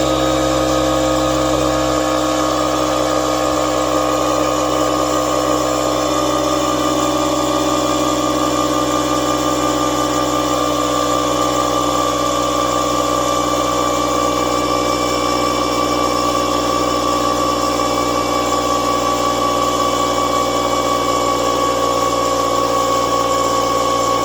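A Kobalt portable air compressor inflates a car tire with a loud, continuous, steady mechanical hum and buzz, running unbroken at close range with no talk.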